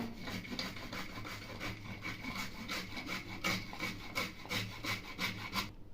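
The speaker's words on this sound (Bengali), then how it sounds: "একটা বিটকে আমি গ্রেটারে ঘষে দেবো" Raw beetroot is rubbed on a grater in steady back-and-forth rasping strokes, close and even, with no talking.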